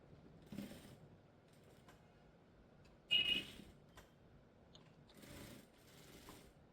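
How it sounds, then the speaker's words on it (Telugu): A tailoring sewing machine stitches two stacked layers of fabric for an Aliya-cut frock, running in short, quiet mechanical bursts with pauses between them and no talking. "ఒక దాని మీద ఒకటి ఇలా పెట్టేసుకుని ఇలాగా ఇక్కడ వరకు ఒక కుట్టు అనేది వేసేసుకోండి"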